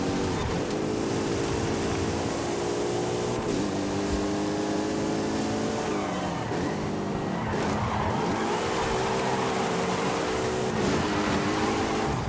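A Porsche drifts in the video game Forza Horizon 5, its engine note rising and falling in long sweeping pitches over continuous tire squeal and road roar, loud and close throughout with no voices.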